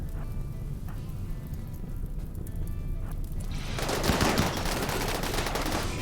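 Rapid automatic gunfire from centipede mechanoids in a colony video game, a dense crackling burst swelling sharply midway and sustained to the end, loud and continuous with no talk.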